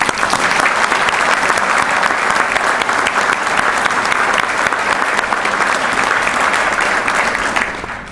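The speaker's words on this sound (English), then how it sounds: "Another round of applause for Larry." Sustained, loud audience applause for a veteran, an Air Force staff sergeant honored at a Support the Troops and Honor the Veterans breakfast. Steady dense clapping runs throughout and tapers off slightly at the end.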